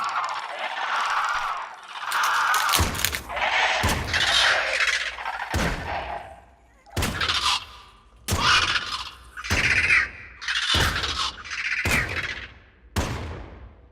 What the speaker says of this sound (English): I will shoot them.